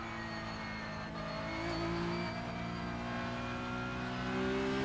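A Porsche Carrera Cup race car engine in the iRacing sim drones steadily at high revs, rising slightly in pitch as it holds power, loud and continuous with no voices.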